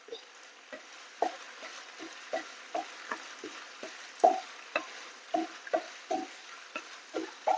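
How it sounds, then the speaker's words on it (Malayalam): A spoon stirs bubbling honey chicken sauce in a pan, giving a steady series of soft scraping knocks about once or twice a second over a faint sizzle, with no talking. "അതുവരെയും ഒന്ന് ഇളക്കി കൊടുക്കാം."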